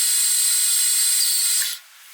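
A drill bit grinds steadily through metal during an A/C hose repair, a bright, high-pitched continuous whine that stops abruptly near the end, leaving only faint background hiss.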